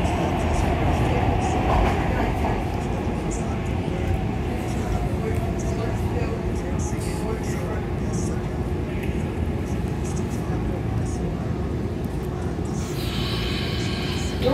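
A SEPTA Market-Frankford Line subway train heading westbound rolls steadily, a loud, close, continuous rumble and roar of wheels on rails, with faint rattles over the top.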